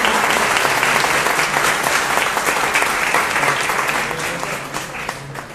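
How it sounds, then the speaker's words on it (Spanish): A room full of attendees at a university student research meeting applauds, a thick, steady wash of clapping that gradually softens toward the close. "Un aplauso nuevamente"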